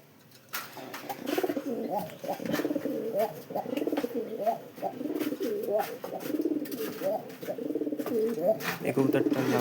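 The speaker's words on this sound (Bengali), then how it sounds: "এই কবুতরটার নাম তুফান" A pet pigeon coos in repeated rounds at close range, steady and fairly loud, with a voice briefly present in the background.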